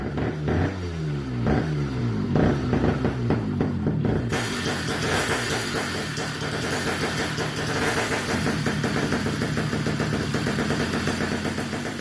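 A ZTMoto Phantom 85 V1, a very large bike engine fitted with a brand-new exhaust, runs close by with a deep, throaty, pulsing note that rises and settles through steady revs for the whole stretch, with no talking.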